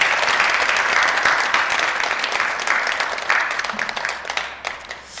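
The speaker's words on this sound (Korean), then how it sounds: "우리 다시 한번 두 분 부부에게 박수하겠습니다." Church congregation applauding a married couple during a Friday service, sustained dense clapping that slowly thins out near the end.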